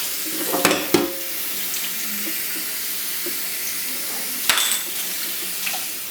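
Water from a tap runs steadily over a soapy, freshly painted part, a close continuous hiss of rinsing broken by a couple of louder splashes and clatters.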